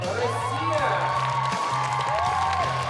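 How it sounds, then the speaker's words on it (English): Crowd cheering and clapping at a combined climbing championship final in Moscow as a climber walks out, a sustained roar with whoops over a commentator talking throughout. "you can hear the reaction from the crowd as he walks out."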